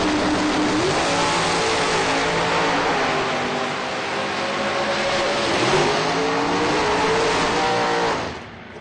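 Drag racing cars launch together and accelerate hard down the strip, a loud sustained engine roar rising in pitch through the run before cutting off sharply near the end.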